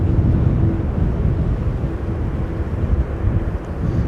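A Qatar Airways Boeing 777 approaching Amsterdam Schiphol in strong post-storm wind, heard as a loud, steady low jet roar thick with buffeting wind noise on the microphone.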